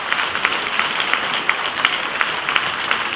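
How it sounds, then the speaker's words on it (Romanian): Audience at a village cultural event in Pânzăreni applauds local artists, a steady wash of many hands clapping together at moderate loudness with no talk over it. "haideți să aplaudăm toți artiștii"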